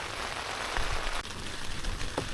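Steady rain patters on surfaces at a cold overnight campsite, a soft continuous hiss with scattered drops, fairly faint and close, with no voices.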